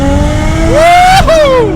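A Toyota Mark II with a JZX engine making about 520 horsepower accelerates hard in second gear, its loud close engine note climbing steeply, briefly dipping at a shift, then climbing again, while a person whoops over it.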